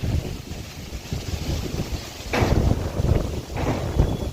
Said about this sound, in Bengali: ভাল লাগছে হাওয়াটা